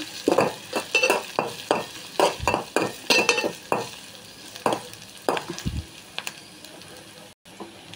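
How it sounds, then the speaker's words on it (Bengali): Pumpkin frying with onion and green chilies is stirred in a pan, the sizzle carrying under a quick series of scraping strokes from a spatula, close and clear, with no talking. "তো আমি একটু নাড়াচাড়া করে নিচ্ছি।"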